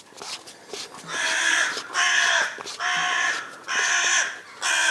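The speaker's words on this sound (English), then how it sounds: "Oh, bloody birds." Crows caw repeatedly and loudly nearby during an engine rebuild, in four or five harsh bursts each about a second long with short gaps between them.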